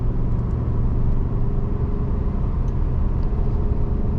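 A heavy 2014 Ford F150 pickup, over 5,000 pounds and high-mileage, drives in third gear through a corner, its engine a steady, loud low rumble with constant road noise throughout and no talk.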